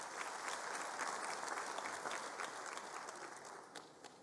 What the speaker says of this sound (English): Give her a big hand of applause, please.